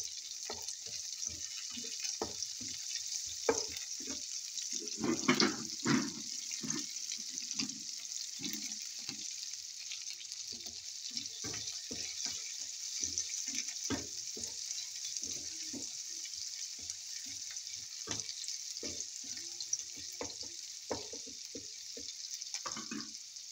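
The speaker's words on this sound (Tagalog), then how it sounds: "maggisa na tayo ng bawang" Garlic sautés in a pan with a faint, steady hiss, broken by frequent clicks, taps and scrapes of a utensil stirring; no one speaks.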